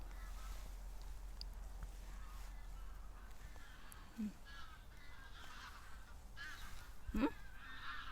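A couple of faint geese honks sound far off over a low, steady background hum in a Norwegian pine forest, spaced a few seconds apart.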